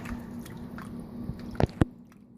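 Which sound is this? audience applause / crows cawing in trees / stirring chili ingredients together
stirring chili ingredients together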